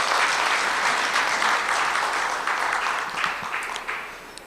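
Loud applause from a forum audience of business leaders, dense sustained clapping throughout that tapers slightly toward the end, no voices over it.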